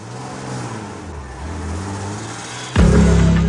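A car engine hums and revs under the opening seconds, then a loud surge of acceleration rises sharply near the end as the vehicle drives off in a comedy crime film.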